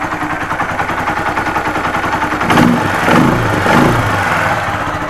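A Honda FTR 223 motorcycle engine running after a cylinder and piston rebuild, a loud, close single-cylinder idle with a fast, even pulse that swells twice as the throttle is blipped.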